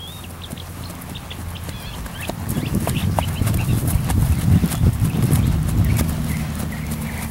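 Horse hooves trotting under a rider at a training session, a dense rhythmic clip-clop of steady footfalls that grows louder after the first couple of seconds, with faint bird chirps and rooster calls from the farm around.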